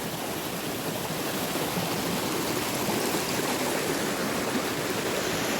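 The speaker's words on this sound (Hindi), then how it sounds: "मुझे ऐसे भी बहते पानी की आवाज़ इतनी अच्छी लगती है" Stream water flows steadily past a village, a broad continuous rushing and trickling that stays even and close throughout with no voices.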